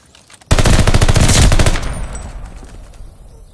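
Burst of automatic gunfire at a hardpoint in the video game Call of Duty: Vanguard, a loud rapid volley lasting about a second before trailing off into fainter scattered shots and echo.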